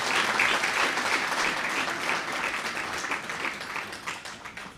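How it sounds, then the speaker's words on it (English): A crowd at a World Teachers Day ceremony gives a round of applause, a steady, dense wash of clapping that gradually tapers off. "they deserve another round of applause for the excellent work"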